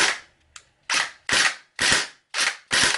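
An RWA KG-9 AEG airsoft machine pistol fires six sharp single shots in a halting, uneven rhythm, close and loud, with brief silence between each crack.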